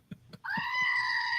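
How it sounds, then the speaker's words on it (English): A goat gives one long, loud, wavering bleat that holds steady to the end, after a few soft thumps. "they are bona fide goats, right? They're goats."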